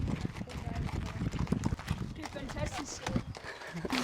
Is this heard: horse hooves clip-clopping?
yes